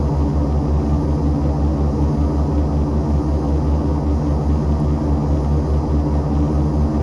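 Turboprop engines of a Turbo Commander 690B in X-Plane 11 give a steady, loud, low droning rumble that holds constant throughout with no talking.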